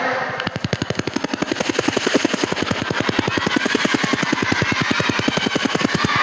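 Helicopter rotor chopping in a fast, steady rhythm, loud and close, with the engine whine underneath and no voices.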